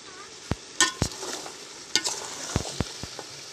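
Mutton curry stirred in a pot over a wood-fired stove after salt goes in, with sharp scrapes and clinks of the ladle at irregular intervals over a low background, close and fairly loud, no talking.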